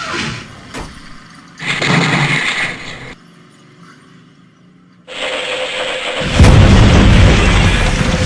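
A video game battle with heavy tanks in a city: loud booming explosions and bursts of gunfire, a sharp blast, then a lull before a sustained roaring barrage, close and powerful.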